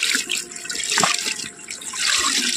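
Cut eggplant and potato pieces get rinsed in pond water at a pond's bathing steps, a brief burst of close splashing and sloshing with no speech.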